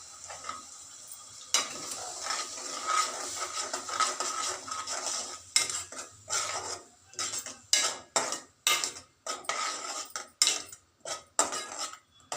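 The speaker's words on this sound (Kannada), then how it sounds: "ಈಗ ಇದಕ್ಕೆ ಟೊಮ್ಯಾಟೊ ಪ್ಯೂರಿ ಮಾಡಿ ಇಟ್ಕೊಂಡಿರೋದನ್ನು ಹಾಕ್ತಾಯಿದ್ದೀನಿ." Tomato puree going into a pan of potato and fenugreek leaf palya: a steady sizzle that gives way to a run of irregular spoon scrapes and clinks against the pan, close and fairly loud, no voices.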